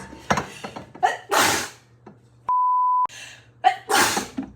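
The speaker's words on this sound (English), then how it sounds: "I'm gonna sneeze." A single sharp human sneeze follows a quick gasping inhale, close and loud, with a brief electronic beep and more breathy sounds around it in a quiet kitchen.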